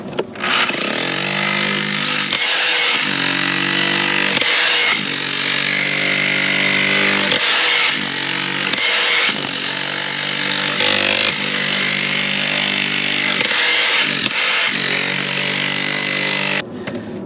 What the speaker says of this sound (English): I'm gonna use the hammer drill.